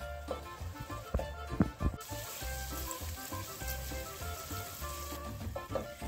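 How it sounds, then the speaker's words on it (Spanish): Onion sautéing in a pan for tomato soup, a steady low sizzle with a few clinks and scrapes of stirring, close and fairly quiet, with no voices. "Vamos revolviendo para que se sofrite hasta que la cebolla cambie de color."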